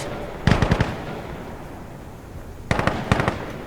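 An M249 SAW fires two short automatic bursts of several rapid shots each, separated by a couple of seconds of quiet, in the video game Insurgency: Sandstorm, sharp and close.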